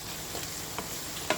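Shrimp tossed with vegetables in a hot pan for fried rice: steady broadband sizzle throughout, with three soft spatula scrapes spaced across it and a sharper knock at the end, close and alone.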